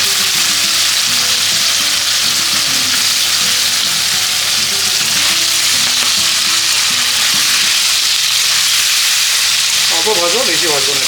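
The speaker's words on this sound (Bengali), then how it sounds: "সব পনিরগুলো একবারে ভেজে নিব।" Paneer fries in hot refined oil, giving a loud, constant sizzle and crackle that stays close throughout, with faint background sound near the end.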